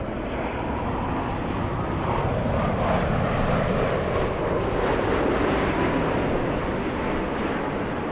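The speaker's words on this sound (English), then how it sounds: "Let's go for the 787 Dreamliner flying in from Osaka," A Boeing 787 Dreamliner arriving at LAX from Osaka passes with a steady jet engine roar that swells slightly, a broad rumble on a gusty, windy day.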